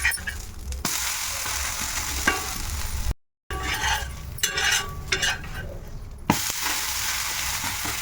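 Pearl millet dosa batter sizzling and frying on a hot pan, a steady crackling hiss with a few scraping stir sounds; the sizzle drops out briefly midway, then resumes.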